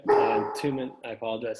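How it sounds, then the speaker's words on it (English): A pet dog named Kevin barks and howls in the background in brief, harmonic bursts, partly layered under someone speaking. "that was my dog"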